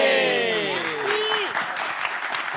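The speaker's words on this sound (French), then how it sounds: "Applaudissez." An audience bursts into loud applause at a live event, a dense wash of clapping that stays strong for a couple of seconds, heard close and on its own.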